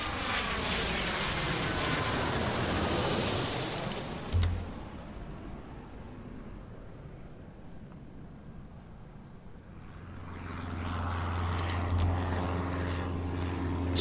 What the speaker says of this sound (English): So many different planes, so many speeds, so many sizes.